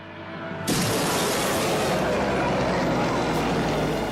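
Sudden loud crash as a red racing plane slices through another plane's tail section in a mid-air collision, followed by a sustained, roaring broadband rush that stays loud to the end.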